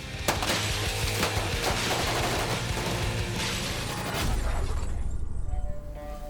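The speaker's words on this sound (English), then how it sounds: "The glass walls, they get blown and they fall apart." Glass walls blown apart by squib charges on a film set for a superhero movie, a dense, loud burst of crashing and shattering with rapid popping, continuous for several seconds before thinning out.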